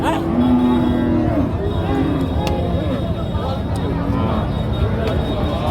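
Cattle at a busy open-air livestock market, with low mooing over constant crowd chatter and background bustle.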